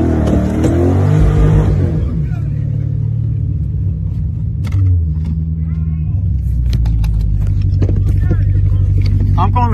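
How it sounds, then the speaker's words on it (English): A loud car engine rumbles and revs close by, a steady low drone that keeps going throughout, with brief talk over it at the start. "All because my car is loud."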